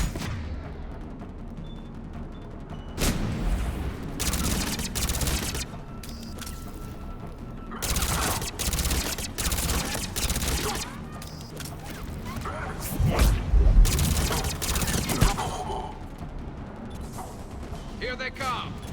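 Battle gunfire in the video game Mass Effect 3 on Tuchanka: repeated loud, broadband bursts of shots and blasts in uneven clusters over a constant rumble, with voices mixed in among the firing.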